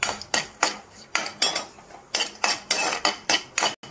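Nuts and raisins being roasted in ghee in a pan on a stove: a run of sharp, close scraping clatters as a utensil stirs and knocks against the metal pan, about ten strokes in steady rhythm with no talk.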